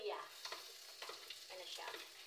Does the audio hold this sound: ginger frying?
yes